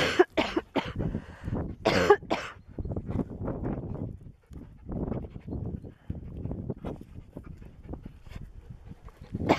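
A dog close by makes a run of rough, irregular sounds: panting, snorting and cough-like huffs. The bursts come in uneven clusters, louder at the start and then softer and quicker.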